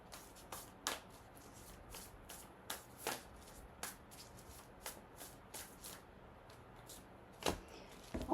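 Tarot cards shuffled and pulled from a deck, soft repeated riffling and papery flicks close by at low level, with a few sharper snaps among them and no talking.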